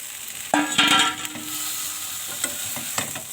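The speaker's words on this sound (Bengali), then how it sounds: "মশলাটা দিয়ে সবজিগুলো একটু কষিয়ে নেব।" Fish and vegetables stir-fry in spices with salt, turmeric and green chillies, a loud burst of sizzling as they hit the pan, then steady frying with a few sharp spatula scrapes against the pan.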